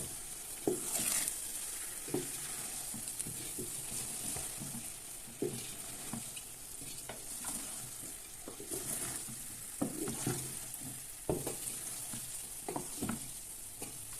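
Soft macaroni being gently stirred in a pan with a spoon, quiet scraping taps spaced every second or so over a low steady sizzle, no talking.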